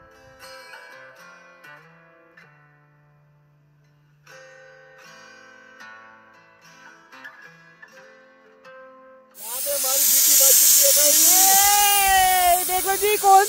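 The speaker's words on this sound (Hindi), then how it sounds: "हमारी यहाँ पर कुकर की सीटी बज रही है" A pressure cooker making veg pulao outdoors beside a river gives a loud, sustained hissing whistle near the end, with wavering tones and a hint of a voice. Quieter tonal sounds come before it.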